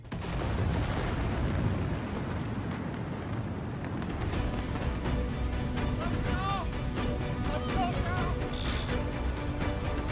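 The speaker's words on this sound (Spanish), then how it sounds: "hay otra explosión." Heavy, continuous rumbling roar of a large industrial explosion, loud and sustained, with crackling debris and distant voices shouting faintly underneath.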